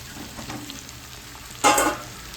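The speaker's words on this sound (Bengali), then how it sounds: "ফুলকপিটা দিয়েও মশলাটা পুরোটা ফুলকপির সঙ্গে মিক্স করে নেবো" Cauliflower being stirred into fried spice masala in a pan, a soft sizzle and scraping that rises to one louder stirring burst near the end.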